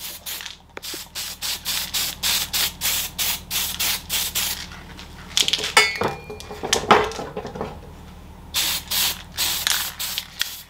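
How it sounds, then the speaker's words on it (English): Aerosol rattle can spraying paint onto bare metal in short, even bursts of loud close hissing, about a dozen in quick succession. A pause follows with some rattling and clatter, then another run of short spray bursts. "Grab a rattle can and throw a bit of paint on them, cover up all the bare metal so they don't rust away."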